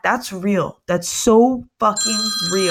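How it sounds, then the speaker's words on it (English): A phone ringtone chimes briefly at the end, a bright bell-like tone, while someone talks loudly over it. "Sorry about my phone going off."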